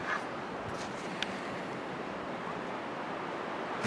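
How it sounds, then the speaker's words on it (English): Strong, continuous wind roaring and buffeting across the microphone, a broad steady rush with occasional gusty bumps, no voices. "It's very windy."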